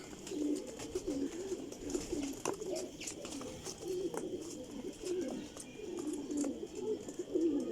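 Buchal pigeons coo steadily in low, throaty rolling calls, several birds overlapping close by, with faint clicks and rustles in the background.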